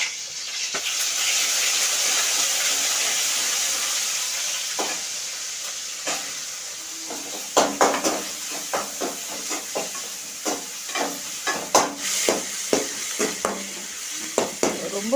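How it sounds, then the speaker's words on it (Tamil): Ginger garlic paste frying in a hot pan, a steady sizzle and hiss that builds, then a spatula repeatedly scraping and stirring in irregular clattering strokes, close by. "இஞ்சி பூண்டு விழுந்து ஃபஸ்ட்டு போட்டு வதக்கணும்"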